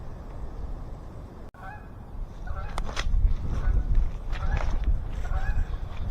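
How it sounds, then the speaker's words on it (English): Geese honking loudly and repeatedly outdoors near a gold prospecting site, the calls overlapping in bursts over a steady background rush of noise. "Those geese are loud."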